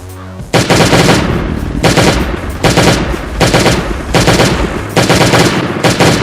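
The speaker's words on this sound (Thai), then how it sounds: "เดี๋ยวตัวใหญ่ผมจะขอเอาปืนยิงเลย" Gunfire in the Last Day on Earth: Survival video game: five loud, evenly spaced automatic bursts of about a second each, back to back, with no talking over them.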